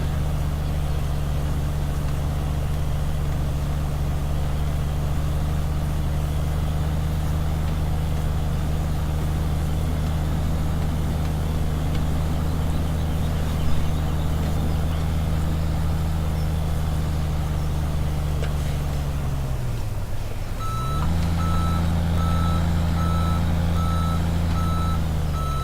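A truck's engine drones loud and steady, drops briefly as it shifts, then idles on while its reversing alarm starts up, a series of regular, evenly spaced beeps above the engine rumble.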